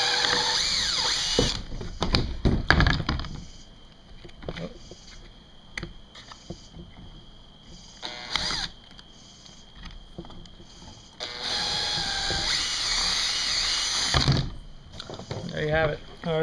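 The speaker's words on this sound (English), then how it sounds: "I'm gonna go ahead and drill it out with a 1/4 inch size drill bit" Power drill with a 1/4 inch bit whirring in bursts, revving up and down as it bites into material, with pauses and clattering between runs.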